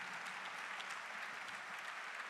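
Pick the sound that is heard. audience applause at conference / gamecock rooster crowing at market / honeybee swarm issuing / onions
audience applause at conference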